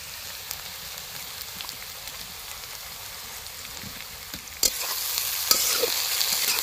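Onion, aubergine and potato fry in a pan with ginger paste, turmeric and chilli powder, a steady close sizzle with stirring scrapes, growing louder and brighter as the spices go in.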